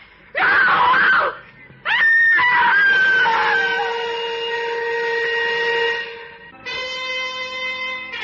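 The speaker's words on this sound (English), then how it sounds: "A woman screamed and cried for help on the Wayfield Common" A woman on a lonely common cries out in fear, with two sharp, loud screams followed by a long, wavering wail and a further strained cry, a close, anguished voice alone in a radio drama.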